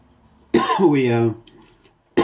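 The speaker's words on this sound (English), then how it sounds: "I'm coughing now because I got kind of the pepper boiling." A harsh, close cough bursts out, followed by a brief pause and the start of another cough at the end.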